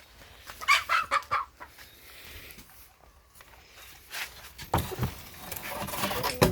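Young laying hens cluck in a backyard chicken coop, with several short, fairly close bursts of clucking that come and go over a low farmyard background.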